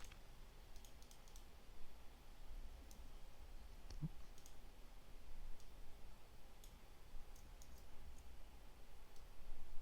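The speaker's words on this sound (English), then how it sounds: "Again, nudging here with the arrow keys." Faint, sparse clicks of computer arrow keys being tapped, a handful of light irregular taps spread over a quiet room background.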